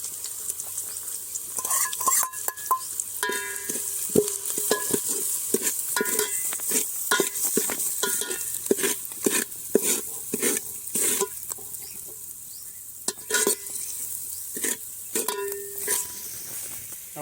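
Spices of coriander, chili, salt, red chili powder and turmeric stirred in a frying pan for Maggi noodles, a spoon scraping and clinking against the pan in quick repeated strokes over a soft sizzle, close and busy.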